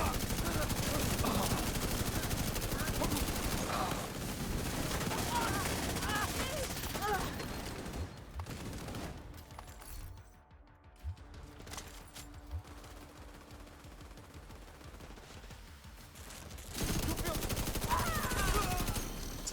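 Sustained bursts of video game gunfire as a player runs around shooting, dense and close at first, dropping to a quieter lull midway before heavy firing resumes, with speech over parts of it.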